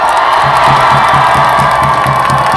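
A large crowd at a Korean political rally for Song Young-gil's Seoul mayoral campaign launch cheers, whoops and applauds loudly and continuously, with rhythmic clapping throughout.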